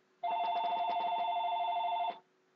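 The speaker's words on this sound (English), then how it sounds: "My phone's ringing." A phone rings in a quiet room with a rapid, trilling electronic ring, heard close and clear, then cuts off abruptly.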